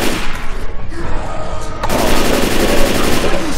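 Shotgun blasts and gunfire in a zombie shooter game, loud dense bursts of shots that grow harsher and more continuous partway through, with no talk.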